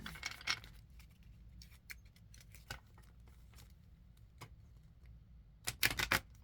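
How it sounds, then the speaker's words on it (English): A large deck of cards split into two halves is shuffled. A few quick papery riffles open the clip, a quieter stretch with scattered flicks follows, and a dense burst of riffling comes near the end. "I divide them in half. So just a second, I'm doing 2 halves, shuffling."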